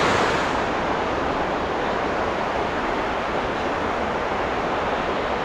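Steady, dense rushing of a swollen, fast-flowing creek, loud and close, with a constant roar and no pauses.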